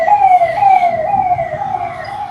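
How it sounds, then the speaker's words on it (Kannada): A wailing ambulance siren sweeps down in pitch again and again as it passes along the road, loud and close over a steady rumble of traffic. "ಅಯ್ಯೋ, ಆಂಬುಲೆನ್ಸ್."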